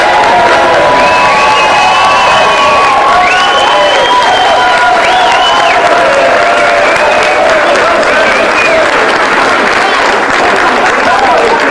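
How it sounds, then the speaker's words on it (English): Crowd applause and cheering for a secretary at a gathering, steady and loud throughout with whistles and shouting voices on top, and speech mixed in. "Give a round of applause, please, to our wonderful secretary."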